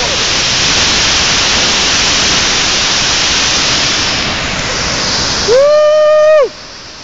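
A powerful waterfall at Buruisan Falls roars as loud, steady, close rushing noise for the whole stretch, briefly joined near the end by a sustained whistle-like tone.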